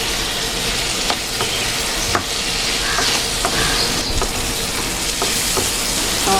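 Tomatoes frying and being stirred into a vegetable bhaji in a pan, giving a steady close sizzle with scattered scrapes and clinks of the spoon throughout.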